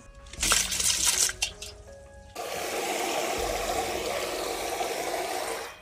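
Garden vegetables mixed with weeds are washed and left to soak. Nearby water splashes and sloshes unevenly at first, then turns into a steady rushing pour that runs to the end.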